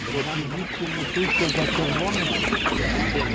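Chickens, including purebred hens and broilers, cluck steadily in a short, busy stretch at an animal market, with people talking nearby over the birds.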